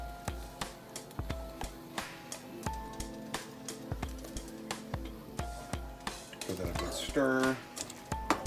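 Onions going into a pot and stirred with a utensil, giving a steady series of light scrapes and taps against the pot, with a faint sizzle underneath and a brief clatter near the end.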